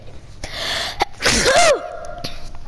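A single loud, close human sneeze, a sharp burst with an indrawn breath before it, heard alone.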